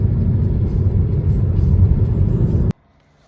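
Car cruising along a road through southern Iceland at 8 a.m., a steady loud engine and road rumble that continues unbroken, then cuts off abruptly near the end.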